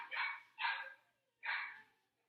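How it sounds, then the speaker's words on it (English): A dog indoors barks three loud, close bursts, two in quick succession and then one after a short pause, reacting to someone at the doorbell; no talking over it. "Sorry about the dog. Somebody's walking in or running the doorbell,"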